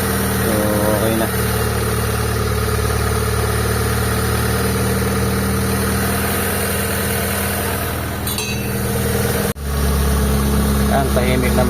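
A car engine idles steadily and fairly quietly after a noise repair, a constant low hum with a brief dip near the end, with someone talking over it.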